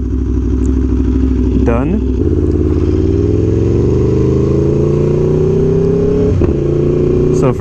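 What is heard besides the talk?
Aprilia Tuono V4 1100 Factory motorcycle riding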